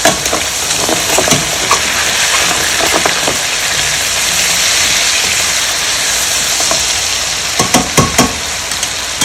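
Chicken Marsala sizzles steadily over high heat as browning sauce is stirred through it in a hot pan. The loud, continuous frying hiss is broken by occasional scraping strokes of the spoon, with no talking.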